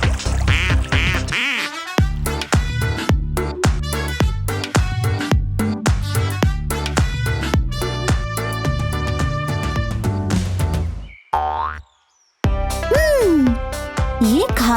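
Cartoon duck quacks ring out in a children's wildlife surprise-egg cartoon, loud and repeated over bright backing music, with a short pause near the end before the music and quacks return.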